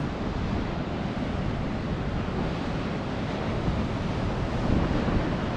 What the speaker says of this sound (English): as y'all can see, man, the waves looking crazy